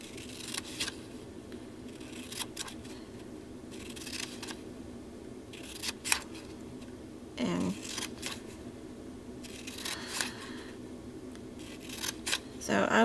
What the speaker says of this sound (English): I just cut right above and right below each one